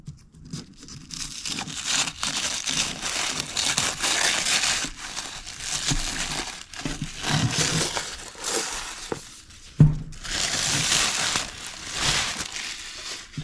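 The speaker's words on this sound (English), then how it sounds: "here it's wrapped in tissue paper. So we'll go ahead and tear that off" Tissue paper wrapping around a Hot Wheels Daniel Arsham Eroded Deora package is torn and crumpled away, giving loud, close, continuous crinkling and ripping in bursts with brief pauses.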